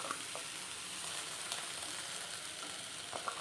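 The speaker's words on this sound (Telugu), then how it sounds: "కొద్దిగా కొత్తిమీర వేసుకొని ఒక 2 మినిట్స్ ఫ్రై చేయాలి." Chickpea masala curry with coriander fries in a pan, giving a steady, close sizzle with a few faint stirring clicks and no talk.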